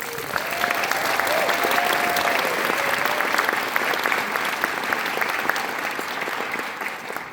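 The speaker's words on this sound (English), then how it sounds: "A round of applause for all their hard work." Audience at a secondary school graduation ceremony applauds steadily, a dense sustained wash of many hands clapping at even loudness throughout, with no voices rising above it.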